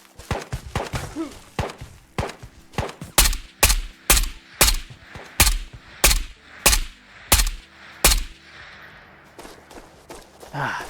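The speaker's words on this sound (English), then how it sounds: "There's some shots." Gunfire in the video game Ghosts of Tabor: a run of about a dozen heavy, booming shots at a steady, slightly uneven pace, loud and close, with short gaps of quiet between them.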